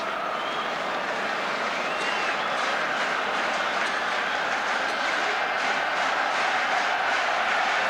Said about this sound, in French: je vous laisse bien entendre les applaudissements et les cris du public